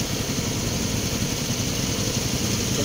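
Suzuki motorcycle engine idling at a second-hand motorcycle lot, a steady close rumble with even low putter and no revving, with no talk.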